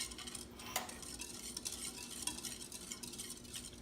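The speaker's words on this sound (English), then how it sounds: "So we mix them together and then we're gonna cook this in the pan." Sauce ingredients with minced garlic are stirred in a pan, soft scraping and swishing with a few light utensil clicks, quiet and close, with no talking.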